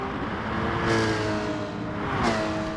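Race cars in a racing video game, a Porsche and an NSX, hum along steadily with engine tones rising and falling, two swells of louder passing whoosh, while a commentator talks over them.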